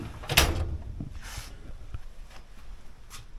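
A drawer on a tool cabinet slides open with a short burst of metallic rattle and scraping near the start, followed by a few softer clunks and quiet handling noises from its contents of tools, pullers and odds and ends.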